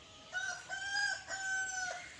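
A rooster crows in two long, clear calls, moderately distant, with no talking.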